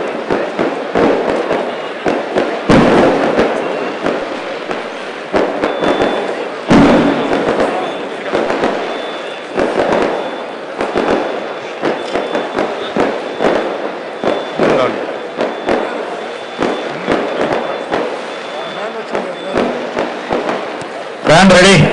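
Outdoor fireworks display after a police duty meet award ceremony, with repeated bursts and crackling pops spread through the clip over a steady crowd murmur, people talking throughout.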